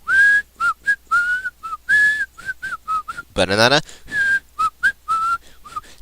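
Someone whistles the Labyrinth Zone tune from Sonic the Hedgehog, a clear melody of short, bright notes in a bouncy rhythm, with a brief spoken word breaking in midway.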